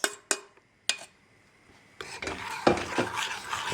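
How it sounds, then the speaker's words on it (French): Caramel sauce cooks in a pan over a gas flame as a utensil clinks sharply against the pan a few times, followed by continuous scraping and stirring with a soft bubbling undertone. "Je cuis sans cesser de remuer jusqu'à épaississement de cette sauce caramel."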